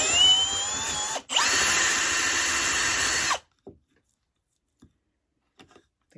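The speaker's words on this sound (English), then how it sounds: "we're going to drill this knot all the way through" A power drill bores through a knot in a wooden rosette hanger, a loud steady whine broken by a brief pause, then stopping abruptly, followed by a few faint knocks and clicks.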